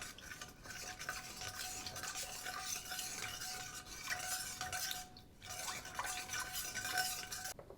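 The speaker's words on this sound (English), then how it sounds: "And now I'm going to mix it well." A spoon scrapes and swirls through thick Thai green chicken curry in a pot, continuous close stirring with soft clinks and a faint sizzle underneath.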